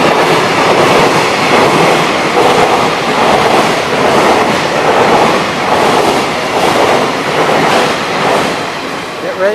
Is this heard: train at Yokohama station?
yes